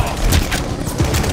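Rapid gunshots in Call of Duty: Vanguard Team Deathmatch, several close, loud cracks fired in quick succession over rumbling game noise.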